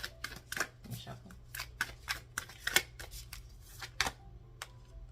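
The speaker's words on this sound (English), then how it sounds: "Let me shuffle" Tarot cards shuffled by hand, giving a steady run of crisp, papery riffles and flicks up close over a low constant hum, with faint voice sounds in the background.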